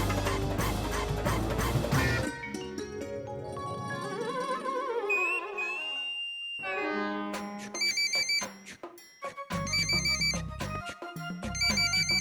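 A telephone rings with a bright, electronic melodic tone in the middle and at the end, set among cartoon music and playful effects in a zoo-animal comedy.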